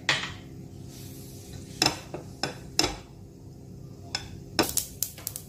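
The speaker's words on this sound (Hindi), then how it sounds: "मस्टर्ड सीड्स हमारी फूटने लगी है" Mustard seeds popping in about a tablespoon of hot oil while raw mango rice is cooked: sharp, scattered crackles and small clinks of a pan and spoon, arriving in irregular bursts over a low, steady background hiss.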